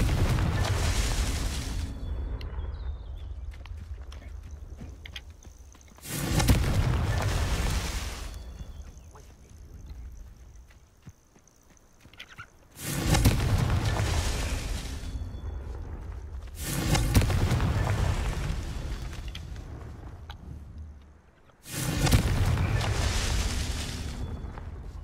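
Confringo spell blasts in Hogwarts Legacy arrive as a series of about five loud, booming explosions spread across the stretch, each a heavy burst followed by a rumbling decay.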